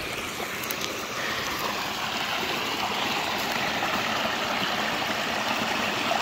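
A forest stream flows steadily and close by, a continuous rushing and trickling of water with no talk over it.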